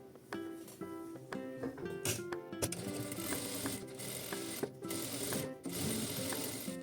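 A sewing machine runs a topstitch along green fabric on a hand towel, stitching in steady bursts with brief pauses between runs, close and clear with no talk.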